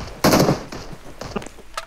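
Gunfire from the left in the mobile battle royale game BGMI: a loud burst of rapid shots, then several quieter, scattered cracks through the rest of the moment.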